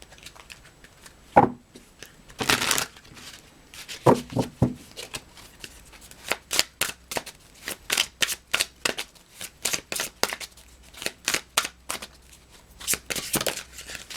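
Oracle guidance cards being shuffled by hand, a quick run of crisp riffling flutters and slaps repeating in close succession, near and clear, with a few slower handling sounds at the start.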